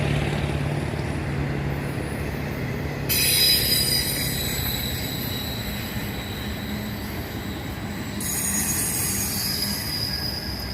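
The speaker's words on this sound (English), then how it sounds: "There's the train." A train rolls past in Seattle with a continuous rumble and loud, high-pitched wheel squeals that rise and fade, fairly close and sustained.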